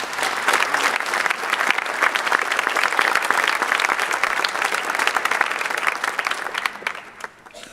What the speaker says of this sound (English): We give all of our staff here a round of applause.